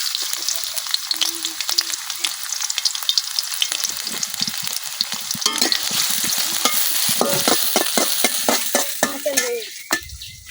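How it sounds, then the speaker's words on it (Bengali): Onion and garlic fry in a wok over a freshly lit stove, a close crackling sizzle broken by rapid scraping strokes of a spatula against the pan. "পেঁয়াজ রসুন ভাজা হয়ে গেছে"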